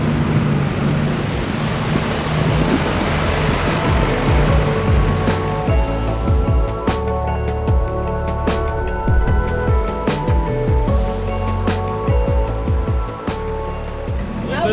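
An overland vehicle fords a fairly deep river in Iceland: a continuous wash of churning, splashing water and engine rumble holds steady throughout, loud and close.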